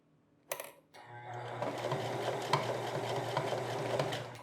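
A sewing machine stitches stretchy fabric over the top of seams, starting with a few handling knocks and then settling into a steady, continuous mechanical hum that runs close and fairly loud to the end, with no talking.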